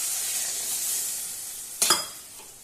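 Spicy curry sauce for sea fish simmers in a pan, a steady close sizzling hiss with a brief clatter of stirring near the end and no voices.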